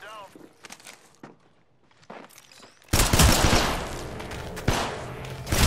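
Gunfire in the Apex Legends video game: quiet footsteps and faint sounds first, then a loud, sustained burst of rapid shots and impacts that continues to the end, with a player talking during it.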